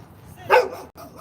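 A small dog gives one sharp, loud bark near the microphone over a low background murmur, excited by an offered dried beef liver treat at an outdoor street gathering.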